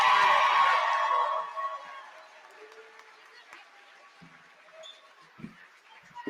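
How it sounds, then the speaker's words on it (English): Crowd applause and cheering for cosplay contestants at an anime convention, loud at first and fading within two seconds into quiet hall murmur with scattered thumps. "let's give a huge round of applause to all of our contestants"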